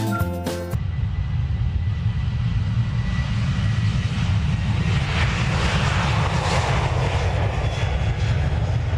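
Airplane engine roaring loud and steady while passengers board the aircraft, a continuous close drone with a brief rattle at the start.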